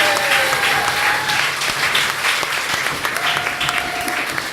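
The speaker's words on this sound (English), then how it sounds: "round of applause for you guys" A crowd at a small live show applauds warmly, a steady roar of clapping that stays loud throughout, with a couple of faint whistles or whoops rising above it.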